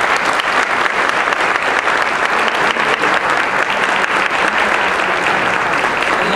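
Steady, loud applause from a large audience honoring Pedro Martinez, the school superintendent, sustained evenly throughout with a dense wash of clapping and no pauses.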